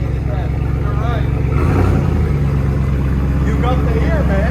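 A 2022 Ram Power Wagon with the 6.4L Hemi V8 and a Flowmaster Outlaw exhaust idles with a deep, steady rumble, loud and close, while people talk over it.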